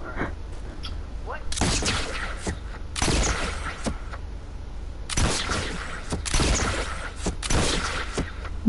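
Gunfire in the video game Squad, with several loud bursts of shots in clusters spread through the stretch over steady background noise, while people talk over the action.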